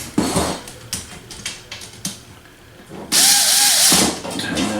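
A power drill drives screws while a TV wall bracket for 20 to 55 inch TVs is mounted. Short clicks and taps come first, then a loud, close whir lasts about a second.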